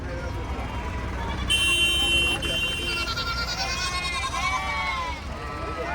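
Goats and sheep bleat repeatedly at a busy livestock market in Gudur, Andhra Pradesh, several animals calling close by over a steady crowd murmur with people talking.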